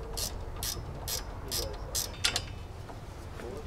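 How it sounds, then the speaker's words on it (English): A ratchet wrench clicks in several quick bursts of ratcheting, spaced about half a second apart and close by, over a low background hum with no talking. "Ratchet wrenches come in real handy in tight to reach, or tight areas, hard to reach areas"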